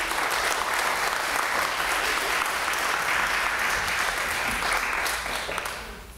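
Audience at a legislative briefing in Pittsburgh applauding, a steady, dense burst of clapping from a sizable crowd lasting several seconds before tapering off at the end.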